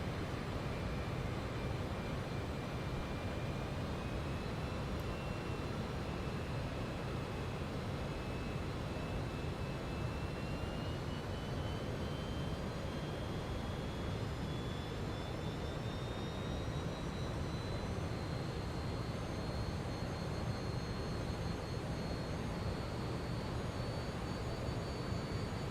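The Flight Sim Studio 727's jet engines in Microsoft Flight Simulator 2020 give a steady, loud, unbroken roar with a high whine that slowly climbs in pitch, and no talk is heard over it.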